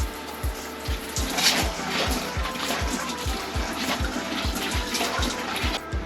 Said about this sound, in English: Here comes the hot water